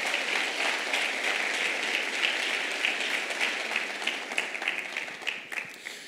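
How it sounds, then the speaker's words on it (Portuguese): Church congregation applauds in sustained, dense clapping that fills the room evenly, loud and continuous throughout. "Vamos aplaudir a graça do Senhor Jesus?"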